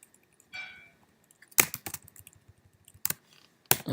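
Python code typed on a computer keyboard: a few close, sharp key clicks and clacks in irregular short bursts, with a brief soft rustle near the start, in an otherwise quiet room.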